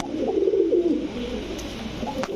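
A flying pigeon, one of the Teddy, Saharanpuri or Pankhi breeds, coos in a low rolling throaty burble, loudest early on and then softening, close by with no voices over it.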